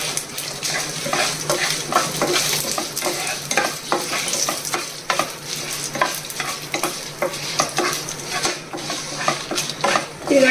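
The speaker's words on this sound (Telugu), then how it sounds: "ఇప్పుడు ఒక 2-3 స్పూన్లు ఆయిల్ వేసి ఎండుమిరపకాయలు వేగించాలండి" Dried red chillies frying in a few spoons of oil, a steady sizzle broken by repeated metallic scrapes and clinks of a spoon stirring in the pan, close and fairly loud with no voices.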